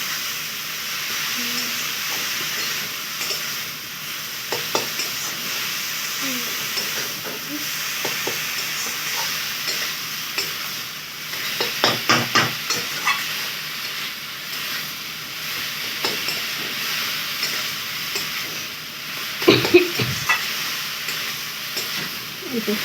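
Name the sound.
stir-frying grated papaya, bottle gourd and potato with spices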